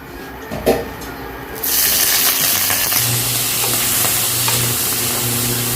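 Squid rings dropped into a hot pan for Filipino-style arroz valenciana, a sudden loud sizzle that jumps up and holds as a steady close hiss, with a low hum underneath and no talking.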